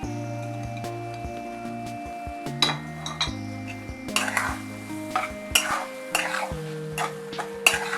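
A spoon scrapes and clinks around a pan while prawn thokku with garlic and coriander is stirred, with intermittent metallic knocks over a soft sizzle and background hum, no talk.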